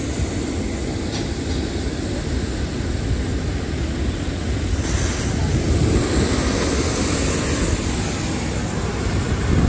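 Airplanes at an airport heard from close by: a loud, steady broadband roar of engines and propellers fills the whole stretch without a break, and no one speaks over it.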